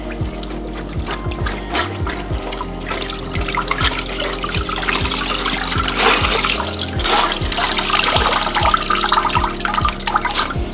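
Water draining from freshly washed jeans, a steady trickling and splashing of liquid running off fabric, continuous and moderately loud throughout with no voices.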